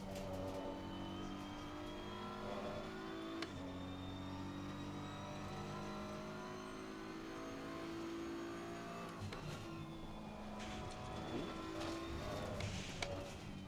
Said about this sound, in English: I love the sound of the car when it goes through there.